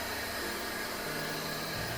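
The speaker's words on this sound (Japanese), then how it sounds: "次に家庭用小型掃除機ツインバード。" A small Twinbird household vacuum cleaner runs continuously, giving a steady broadband whoosh with a constant motor whine, with no voices over it.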